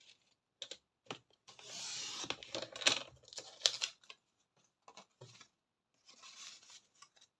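Scissors snipping paper while trimming a page for a small handmade mini photo album, a run of close, crisp cutting strokes in short bursts, with one sustained cut mid-way and a few quieter snips after a pause.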